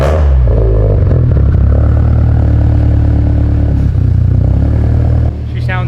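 A built Subaru STI engine with an ETS muffler barks and revs after a half-warm start, loud and close, its deep rumble surging through blips before dropping back near the end.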